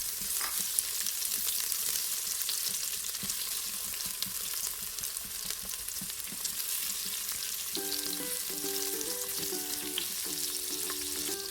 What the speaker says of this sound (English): we're going to heat up some oil and saute the onions